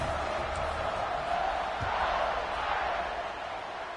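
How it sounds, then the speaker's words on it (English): Football stadium crowd buzzing after a score ahead of a kickoff, a steady broad roar of many voices that holds at a loud level throughout, with a slight fade toward the end. "this crowd is buzzing after that last score"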